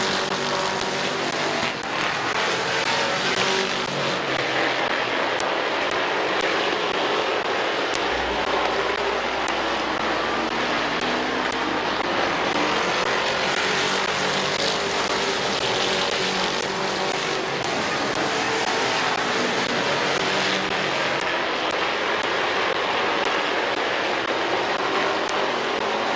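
Race cars lapping at Midvale Speedway, a steady loud roar of engines circling the track continuously, with a deeper rumble joining partway through; no talking heard.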